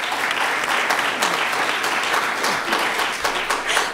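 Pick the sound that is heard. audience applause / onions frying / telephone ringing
audience applause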